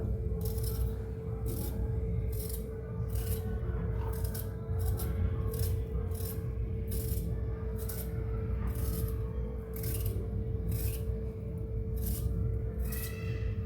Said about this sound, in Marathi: तर त्याची आपल्याला ही साल वरची काढून घ्यायची